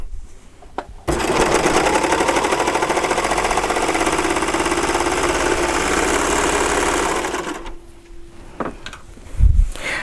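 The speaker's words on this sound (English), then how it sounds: "Let's sew these two pieces together with that" An overlock serger stitches two fabric pieces together with a narrowed seam, running as a loud, steady rapid mechanical chatter for about six seconds, then slowing and stopping, with small handling clicks and a soft thump afterward.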